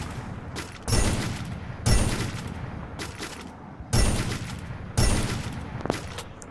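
Sniper rifle gunfire in the Free Fire video game: four loud, sharp shots at roughly one-second intervals, each with a short ringing tail, over steady game background noise.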